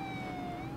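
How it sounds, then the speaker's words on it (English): A steady wailing police siren in Roblox Vehicle Simulator, electronic and even, sounding over a low engine rumble. "let's turn on the siren"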